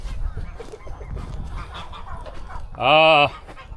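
Chickens and a guinea fowl on a farm, with soft clucking and low murmuring under a voice, then one loud, harsh bird call near the end.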